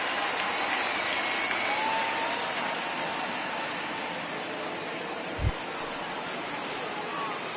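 Home crowd noise at Minute Maid Park in the video game MLB The Show 19, a broad steady murmur of applause and cheering that fades slightly midway, with a single low thump near the end.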